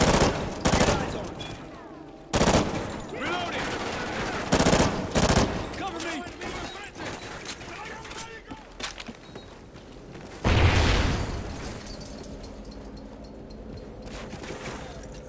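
Bursts of automatic and single gunfire in Call of Duty: Ghosts, loud and close, with several heavy volleys separated by quieter stretches of rattling shots and mechanical clatter.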